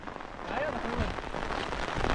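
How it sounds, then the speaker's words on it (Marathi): Rain falling on a forest path in the Konkan during a monsoon walk, a soft, steady hiss with scattered drops, fairly faint and even across the moment. "पाऊस बघा कसा लागतोय."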